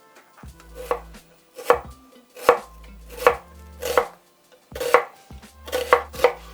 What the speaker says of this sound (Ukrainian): Так само треба нарізати на смужки.